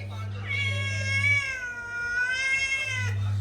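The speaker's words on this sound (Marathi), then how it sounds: "मांजरी आल्या बघा" Cats meowing up close indoors in a drawn-out, wavering cry, with a steady low hum underneath.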